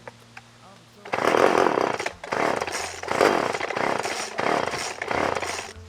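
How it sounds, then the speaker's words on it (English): A faulty chainsaw sputters to life after a quiet start, revving loudly in several bursts with brief dips between them, close by. "See if we can get this chainsaw working again."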